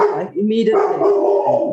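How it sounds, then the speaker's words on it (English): A dog barks and yips indoors while a person keeps talking over it, the barks mixed into the speech throughout the short stretch. "Sorry about my dog."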